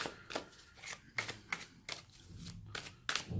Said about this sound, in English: Julie, just give them a shuffle